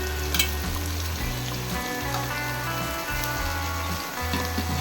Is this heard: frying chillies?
yes